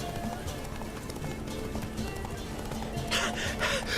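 Roach the horse galloping in The Witcher 3: Blood & Wine, a steady run of hoofbeats at middle distance under game music and ambience, with a short bright burst near the end.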